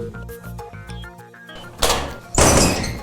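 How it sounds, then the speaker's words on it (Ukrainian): A sectional circuit breaker in an electrical substation is switched on, giving two heavy mechanical clunks about half a second apart, the second louder, after a stretch of steady electrical hum. "Вмикаємо секційний автомат, розводимо силові ножі."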